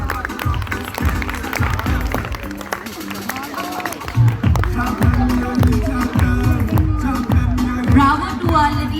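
Parents cheer and clap at a kindergarten sports day race at a Poddar Jumbo Kids school, a steady crowd roar with applause and scattered shouts under a host's voice and music.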